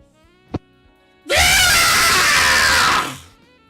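A person voices a loud, sustained scream straight into the microphone, imitating a scream in the darkness during a tabletop fantasy role-playing game. One short knock comes first, then the harsh cry lasts about two seconds and cuts off.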